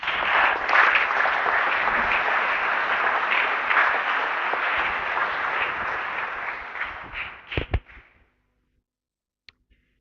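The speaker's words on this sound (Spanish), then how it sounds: "Le damos un aplauso de todas formas." Loud, sustained applause from a crowd at a handball tribute ceremony honouring international players, clapping steadily for about seven seconds, then thinning to a few last claps before silence.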